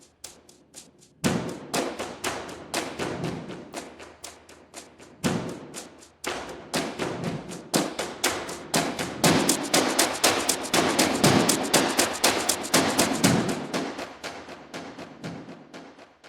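Small orchestral percussion from the UJAM Symphonic Elements library plays a floating groove, rapid tapping and thudding hits layered in a busy, steady pattern that swells in density and loudness, with no voices.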